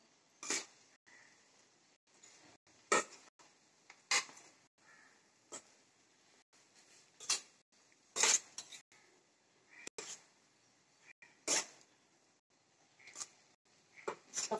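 A spoon stirs tomato rice in a metal pot, producing irregular clinks and scrapes against the pot, spaced a second or two apart, close by and fairly quiet between strokes.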